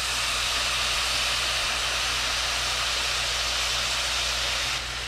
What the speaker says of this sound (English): We're going to deglaze the pan with a touch of red wine